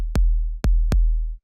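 Original 808 kick sample, three deep booming thumps with a clicky attack and long sustained low tails, the second and third closer together, loud and alone.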